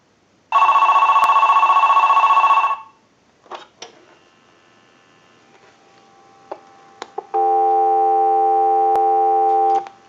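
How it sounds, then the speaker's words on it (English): An AT&T 530 Trimline telephone gives one last ringing burst, then a few handling clicks and taps, followed by a steady, close, continuous dial tone. "we'll give you some dial tone"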